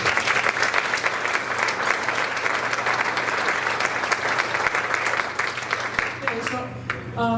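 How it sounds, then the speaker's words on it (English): An audience at the 2018 Valley City State University Viking Hall of Fame ceremony applauds steadily in a hall, a dense wash of clapping that thins out toward the end. "give him one more round of applause"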